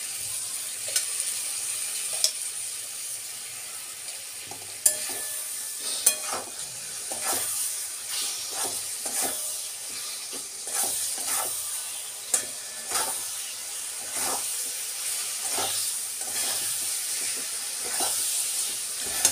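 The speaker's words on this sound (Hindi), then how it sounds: "ऐसे 2 मिनट चलाना।" Green chilli pickle with tamarind stirred slowly in a hot pan, a steady hiss of sizzling beneath soft, irregular spoon scrapes and taps, close and continuous with no talking.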